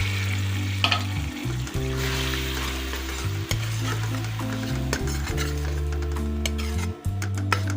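Tomatoes sizzle in a pan for a potato and green pea curry, a constant close frying hiss with a spoon scraping and clinking against the pan at intervals over a low steady hum.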